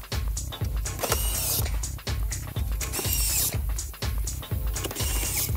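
A car stereo is fastened onto its original mounting bolts with a ratchet, giving loud, close, rhythmic clicking strokes about once a second, each ending in a short thud, with no talk.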